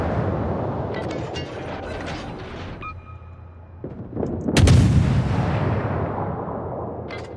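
Enemy battleship secondary guns firing in the World of Warships naval game, a dense rumble of booming shots with one loud blast partway through, continuing as a rolling barrage.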